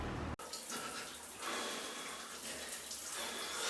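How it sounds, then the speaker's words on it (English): Warm shower running steadily after an ice bath, a continuous broadband spray of water that begins abruptly a moment in and carries on at an even level with no talk. "Do you want a warm shower now?"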